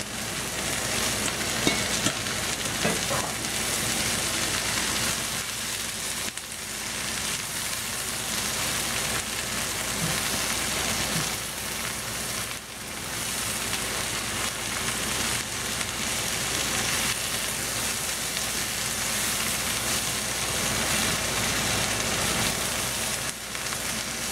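Pork sausage and red cabbage sizzling in a stir fry, a loud, dense and continuous frying hiss with occasional scraping stirs, close and with no one talking.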